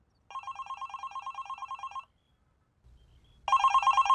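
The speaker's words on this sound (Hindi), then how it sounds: "और तुम्हारा फोन भी तभी बजता है" A mobile phone rings in two bursts of rapid electronic trilling, loud and close, separated by a short pause with a low rumble before the second burst.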